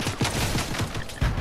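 Gunfire in the video game Fortnite, a rapid volley of close, sharp shots in quick succession with a heavier burst near the end, loud and continuous.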